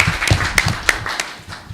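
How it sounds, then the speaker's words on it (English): Scattered hand clapping from a small audience at a startup competition event, a brief run of sharp, uneven claps close by without talking. "So let's give them a round of applause."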